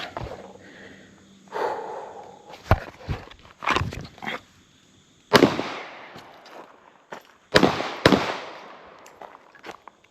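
Gunshots at a shooting range, fired from concealment at cardboard targets: a few sharp reports with decaying tails, two of them loud and close, separated by quieter handling noise.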